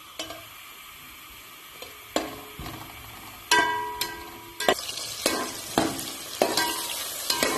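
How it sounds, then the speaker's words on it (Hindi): Steady sizzling and crackling of onions frying in a hot pan until light brown, with occasional sharp metallic clinks of a spoon stirring against the pan. "और प्याज इसमें डाल दूंगी हल्का ब्राउन होने तक।"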